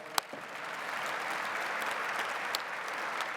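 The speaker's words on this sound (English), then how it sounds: "let's give him a round of applause" Audience applause at an engineering awards plenary, steady moderate clapping from a seated crowd filling the hall, with a sharp knock at the start.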